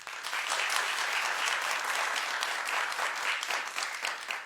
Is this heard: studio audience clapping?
yes